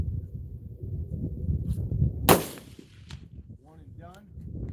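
A single sharp rifle shot cracks out while an optic is zeroed outdoors, a sudden loud report rising over low background rumble and then fading, with faint voices after it.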